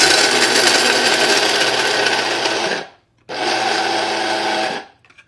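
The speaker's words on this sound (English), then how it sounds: "So we've got a little coffee grinder here." Loud, whirring roar of a small electric coffee grinder grinding pistachios, running steadily for about three seconds, stopping briefly, then grinding again in a second burst before cutting off.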